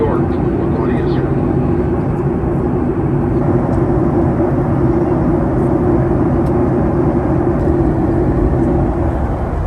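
Steady, loud cabin roar inside a Southwest Airlines Boeing 737-800 after landing at New York LaGuardia, a continuous broadband rumble with faint background voices.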